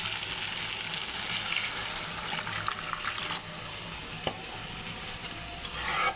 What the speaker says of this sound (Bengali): এখন ঝোলের জন্য গরম জল দিয়ে দেব।